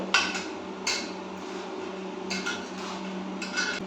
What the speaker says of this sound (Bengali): এগুলোকে ভালো করে ধরে একটু কুচিয়ে নেবো। কুচিয়ে নিচ্ছি এইভাবে ধরে।